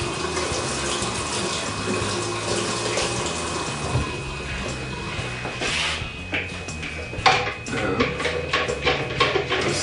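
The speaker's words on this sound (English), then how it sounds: "Quick rinse." Tap water runs steadily as a winemaking stirring spoon is given a quick rinse, with rubbing and clinking of the spoon toward the end.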